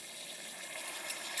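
Warm water runs steadily from a tap while hair is washed, a continuous broadband hiss of flowing water at even level with no talking.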